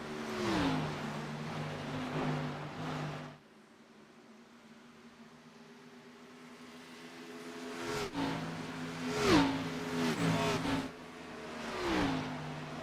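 Race cars in a stock-car racing video game roar around the Las Vegas track, engines droning with steady harmonic whine, fading out midway before several cars rush past loudly, pitch sweeping with each pass.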